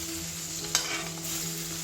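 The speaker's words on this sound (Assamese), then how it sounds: "এতিয়া মই ইয়াতে প্ৰথমতে মই বিলাহীখিনি দি লওঁ।" Tomatoes fry in a pan for an Assamese fish curry, a steady close sizzle with one brief stirring scrape partway through.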